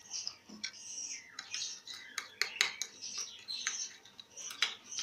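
A spoon scrapes and clinks against bowls while food colours are stirred into lemon juice for sweet zarda rice, in quick irregular metallic taps and rattles up close.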